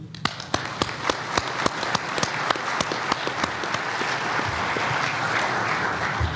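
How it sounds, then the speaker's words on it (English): A round of applause from an audience at a board gathering, starting with a few sharp individual claps that quickly swell into dense, steady clapping from the whole room, with no voices. "I would like to suggest that we give them a round of applause for their boldness"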